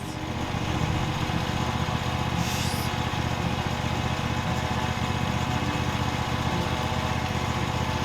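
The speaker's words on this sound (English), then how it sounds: "You still mowing? Oh, right here? Oh, he's gonna mow right here." A lawn mower engine runs steadily nearby, a constant droning hum with little variation throughout.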